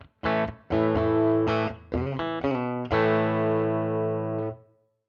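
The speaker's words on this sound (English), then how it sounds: "we're going to choose a 4x10 Bassman with a 57 on it." Electric guitar played through a Fractal amp modeler using a 4x10 Bassman cabinet impulse response captured with a 57 microphone, producing driven, sustained chords and a few short stabs, loud and alone before fading out.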